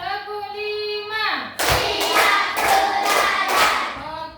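A group of children claps together in a classroom, a burst of quick, loud claps with a few rhythmic hand strikes after a sung or spoken lead-in, close and lively.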